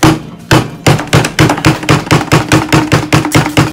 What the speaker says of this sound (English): I'm going to have to get a hammer and bash this bottom bit out.